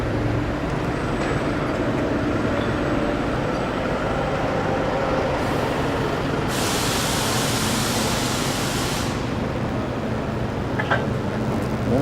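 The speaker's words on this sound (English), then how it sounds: "Oh, I'm on a little train here." Steady rumbling and rattling of a small train rolling along, continuous and fairly loud, with a brief hiss of higher noise partway through.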